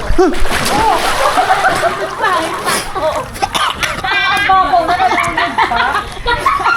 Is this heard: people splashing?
yes